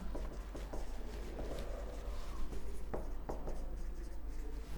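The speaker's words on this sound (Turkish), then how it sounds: "Yine siyahla yazacağım." A black pen scratches across paper in quick strokes and taps while biology notes on bacteria are written, close and quiet with a faint steady hum underneath.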